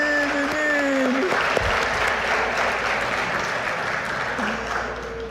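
A church congregation bursts into broad, continuous applause during a sermon. The clapping is dense and steady, with brief voices and shouts mixed in, and it eases slightly toward the end.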